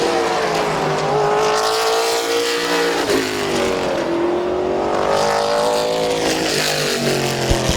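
Race cars roar around the track at Midvale Speedway finishing a heat race, a loud continuous engine drone rising and falling as cars pass, with steady crowd-and-track ambience throughout.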